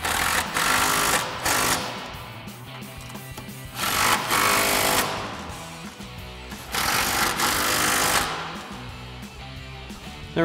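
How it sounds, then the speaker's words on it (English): An electric impact wrench with a 14 mm socket snugs down the coil-over top mounting nuts on a 1994-2004 Mustang, firing three loud, rapid hammering bursts with short pauses between them. "tighten down our top mounting nuts here using our 14 mil socket on our electric impact"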